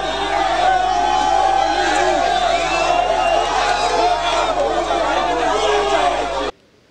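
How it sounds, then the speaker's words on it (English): An angry crowd of residents gathered outside a church after a deadly incident, a dense roar of shouting and agitated chatter from many voices, loud and continuous before cutting off abruptly. "After a few minutes, the curious crowd turned angry."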